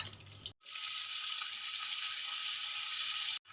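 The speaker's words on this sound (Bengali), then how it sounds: "তেলটা হালকা গরম হয়েছে এবারে দিয়ে দেবো অল্প পরিমাণে একটু বাটা" Spice paste dropped into lightly heated mustard oil over a medium gas flame for sesame chicken sets off a steady, bright sizzle that starts abruptly and holds evenly for about three seconds before cutting off.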